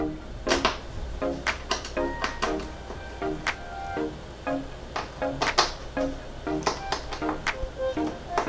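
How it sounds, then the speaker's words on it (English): T10 Torx screws being loosened from the right speaker inside a 27-inch 2012–2015 iMac, a close run of small metallic clicks and taps in an irregular rhythm, with faint ringing in between. "The right speaker is also secured with two T10 screws. Go ahead and loosen up those screws now."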